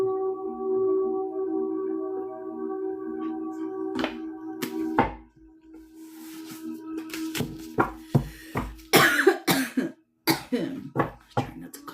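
A person coughs and clears their throat in a quiet indoor room, several short, sharp bursts clustered in the second half after a steady hum fades, fairly close and loud.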